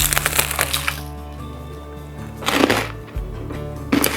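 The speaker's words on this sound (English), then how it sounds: "I hope, guys, you can hear the crispy of the bread" Crunchy bites into crispy zapiekanka, a toasted Polish street-food bread topped with sausage, pickles, mushrooms and crispy onions, give a burst of crackling near the start and two shorter crunches later, heard close up with no talk.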